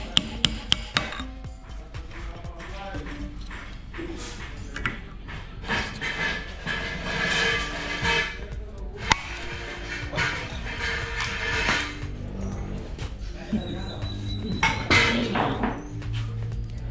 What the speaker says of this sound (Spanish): lo he colocado en una prensa en esta parte de aquí y le vamos a dar unos golpecitos